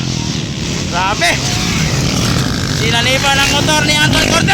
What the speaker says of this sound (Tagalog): Sinanipan ang motor ni Anton Cortez!